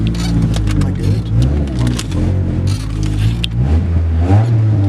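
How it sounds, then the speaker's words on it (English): A Pontiac Grand Am fitted with a free aftermarket exhaust revs close by, its engine rising and falling in repeated bursts, with voices talking over it. "Over here revving"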